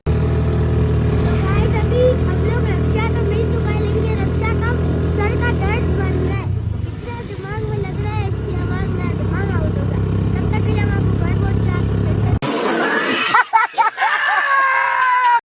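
Dense motor hum and engine drone of a rickshaw ride through busy road traffic, with horns and engine noise layered throughout and voices talking over it, cutting to a brief quieter passage at the end.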